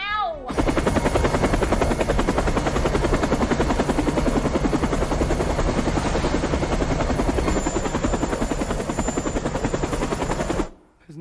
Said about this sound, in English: I need a chopper. Now!